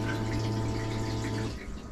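A steady mechanical hum of a marine shower pump running in a 1973 camper with water rushing through pipes, loud and continuous, dropping off slightly near the end.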